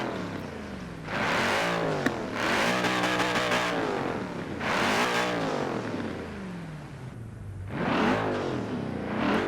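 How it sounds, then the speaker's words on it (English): A Mercedes-sourced V8 in an Aston Martin Vantage revs hard in several loud, close bursts, each rising and falling in pitch with brief lulls between, alone without talk. "I do always like the sound of Mercedes V8s,"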